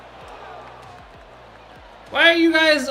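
A virtual golf gallery in PGA Tour 2K25 lets out a loud, swelling collective groan after a shot at a DMV Championship playoff round, rising suddenly from a quiet background and holding for nearly a second to the end.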